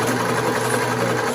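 Sewing machine stitching a cloth face mask with a nose clamp, a continuous loud close buzzing whir, steady throughout with no talk.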